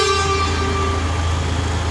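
A DAF CF 85 410 6x4 truck horn sounds one steady, loud, harmonically rich blast lasting about two seconds over a low engine idle.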